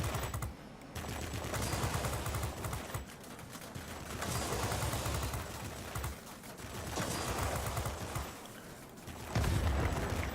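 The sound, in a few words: aircraft gun firing in World of Warplanes video game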